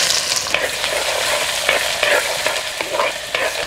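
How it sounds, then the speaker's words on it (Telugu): Onions frying in oil with mustard seeds, chana dal and urad dal for a tomato bath, a close continuous sizzle broken by repeated scraping stirs of a spoon in the pan. "ఒక చెంచా ఆవాలు, ఒక చెంచా పచ్చెనపప్పు, ఒక చెంచా మినప్పప్పు, పోపు దినుసులు వేసిన 1 నిమిషానికి ఉల్లిపాయలు కూడా వేసి కలుపుకుందాం"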